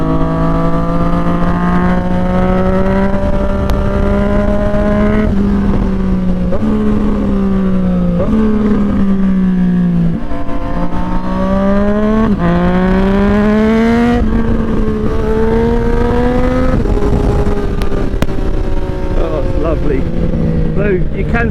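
A 2020 Triumph Street Triple 765RS motorcycle ridden on a slightly damp country road, its engine loud and close, rising in pitch through the gears with repeated shifts and throttle swells, plus heavy wind rush.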